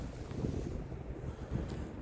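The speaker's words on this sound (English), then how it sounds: "It's getting windy." Gusty wind buffets the microphone outdoors on a hike near sunset, a steady low rumble with a couple of stronger swells.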